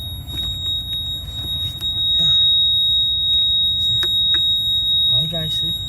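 A Lexus GS470 ABS accumulator alarm speaker sounds a steady, piercing high electronic tone that holds across the whole stretch, with someone talking over it and some handling noise nearby.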